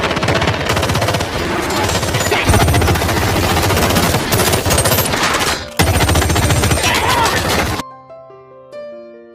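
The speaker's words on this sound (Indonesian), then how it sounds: "Dan terjadilah baku tembak di antara mereka." Intense machine gun fire and gunshots from a movie gunfight during a robbery, loud, dense and continuous for about eight seconds before cutting to sparse tonal music.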